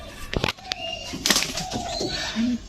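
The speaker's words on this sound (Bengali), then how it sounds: "নাপতা নড়ার সাথে পেয়ার করছে এই কবুতরটা" A pigeon courting a female coos in short low calls, close by, mixed with wing flutters, scuffling and small background noises.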